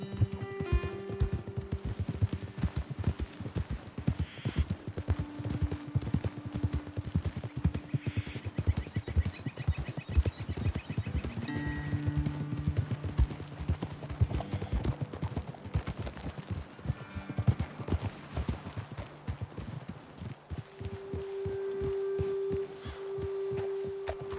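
Horses' hooves clip-clop in a steady trotting rhythm on a trail in the Red Dead Redemption 2 video game, with several animals moving close together for over twenty seconds while faint tonal background sounds drift beneath.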